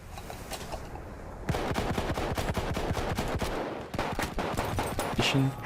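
Cei-Rigotti M1895 rifle fire in the multiplayer shooter Battlefield 1, with rapid bursts of sharp, loud shots in quick repeated volleys, brief pauses between strings, and battlefield ambience around them.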